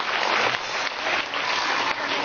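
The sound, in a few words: Filipino audience applauding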